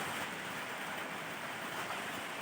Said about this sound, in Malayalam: ഇവിടെ നല്ല മഴയാണ് മഴ പെയ്തുകൊണ്ടിരിക്കുന്നുണ്ടോ